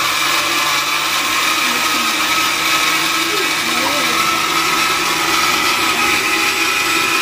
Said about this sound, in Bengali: এই ভিজানো চাল এখন ছায়ামনি হলো ব্লেন্ডার করতেছে, ব্লেন্ডার থেকে আটা বানাবে।